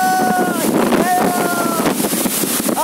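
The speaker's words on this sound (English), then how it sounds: "the wind is blowing from that side" Strong storm wind roars and buffets the microphone outdoors during a dust storm, steady and loud, with leaves rustling and a faint voice underneath.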